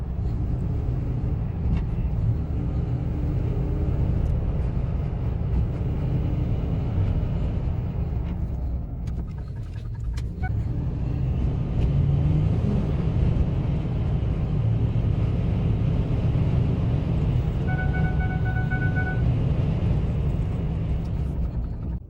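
A Ford truck on a test drive after repairs for stalling and no acceleration, with steady road and engine rumble running throughout, loud and close, without talk.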